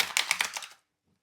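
A Crystal Visions tarot deck is shuffled, a quick burst of crisp papery riffling clicks lasting under a second, close and fairly quiet, then silence.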